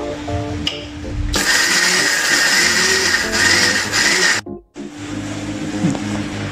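A mixer grinder whirs loudly as it blends a dried fish chutney, one sustained high roar lasting a few seconds before cutting off abruptly, then a quieter rumble afterwards.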